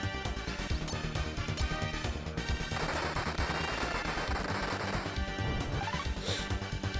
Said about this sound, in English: So now I have the powerful Gatling gun.